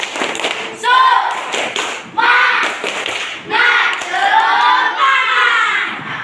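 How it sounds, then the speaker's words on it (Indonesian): A class of children performs the 'tepuk semangat' rhythmic clapping chant, their voices shouting in loud bursts punctuated by sharp claps and thumps in a repeating pattern, close and lively. "Kita tepuk semangat lagi ya biar tetap semangat bersama-sama ya."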